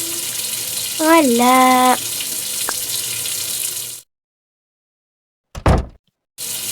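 Bath water runs steadily in the Avatar World game, a continuous loud splashing flow that stops abruptly, with a brief tonal interface sound over it and a voice speaking briefly near the end.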